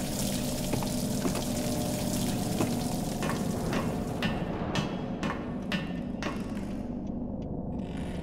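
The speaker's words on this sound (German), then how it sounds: "Aber immerhin fließend Wasser hat er." Running water from a tap in the video game Bioshock Infinite, a steady hissing splash that continues throughout at moderate level, with a few soft clicks near the end.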